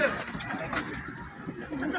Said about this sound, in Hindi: ये कबूतर आप लोगों को दिखा रहा हूँ,